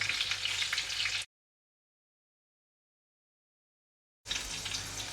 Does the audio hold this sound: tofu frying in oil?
yes